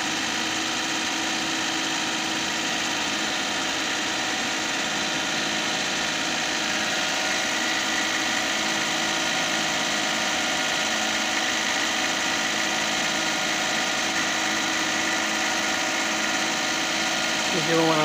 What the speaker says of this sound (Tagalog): Ngayon, i-rev natin para mabilis tayo.